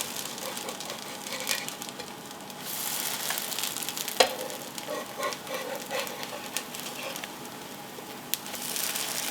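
Lemon soufflé pancakes frying in a pan, a steady bright sizzle that runs throughout with small pops and crackles, close and alone with no talking.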